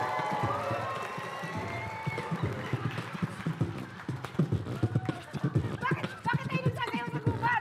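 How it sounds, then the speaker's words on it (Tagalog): Horse hooves clip-clop in a quick galloping rhythm amid a lively studio setting, with people talking and exclaiming over the hoofbeats and a crowd reacting in the background. "Kabayo yun, kabayo!"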